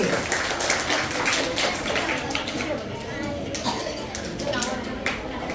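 Applause from parents in the audience of a Marathi school's annual prize-giving ceremony in Dombivli, a steady patter of many hands clapping that holds across the whole stretch while someone speaks over it.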